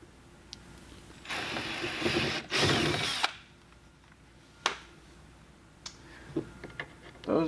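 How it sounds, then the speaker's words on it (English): A power drill match-drills holes for fender flares on a 2024 Can-Am Maverick R, whirring in two short bursts, the second louder, followed by scattered clicks and knocks of handling tools nearby. "we're just going to go ahead and match drill"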